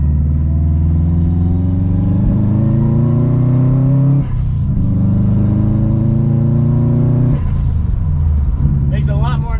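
A modified car fitted with a full exhaust system and other mods accelerates hard in loud, continuous rising revs, with two brief gear-change dips.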